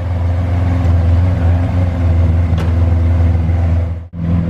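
A Lamborghini Aventador's engine rumbles loud and close in a low, steady drone with slight revving swells, cutting out abruptly near the end before resuming; nobody speaks.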